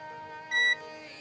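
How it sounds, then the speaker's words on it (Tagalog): A multimeter in continuity buzzer mode gives a single short, high electronic beep while testing a fusible resistor inside a Coocaa 32-inch LED Android TV, sounding over a faint steady hum. "Yan, naka-buzzer mode tayo."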